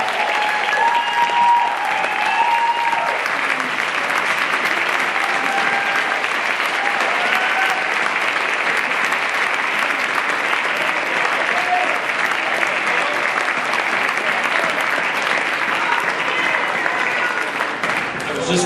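Sustained applause from a party committee crowd honoring its chairman, steady and dense clapping filling the room for almost twenty seconds, with brief murmurs of voices under it.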